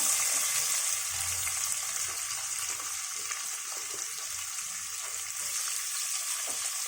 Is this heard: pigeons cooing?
no